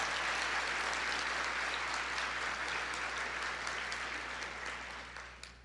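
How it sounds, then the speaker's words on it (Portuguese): Congregation applauding in a church, a dense, even wash of clapping over a low steady hum that gradually fades toward the end. "Pedro, pode aplaudir ao Senhor."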